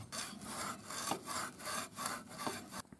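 Someone scrubs surface rust off a Stihl TS 420 concrete saw with rhythmic back-and-forth rasping strokes, about seven in three seconds, close up and with no talk.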